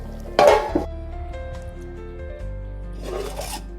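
A metal lid set onto a pot of kandori mutton curry, one sharp clanging clink followed by a ringing tail, then a softer rattle as it settles.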